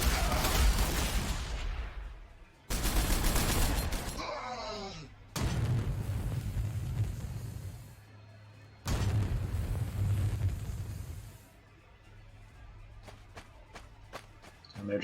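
Ork units firing in the turn-based strategy game Warhammer 40,000: Sanctus Reach: heavy booming volleys in several separate bursts with gaps between, then a quick run of sharp pops near the end, with someone talking between them.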